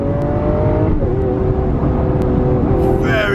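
A Lamborghini race car at speed on the Silverstone straight, loud close engine drone from inside the cabin holding a steady high pitch with a brief shift in tone, heard at about 224 km/h.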